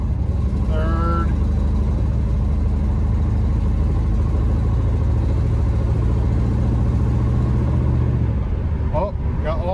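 A straight-piped 1984 Camaro Berlinetta roars loudly from inside the cabin, its engine droning steadily through the gears before easing off near the end, with a voice talking briefly over it.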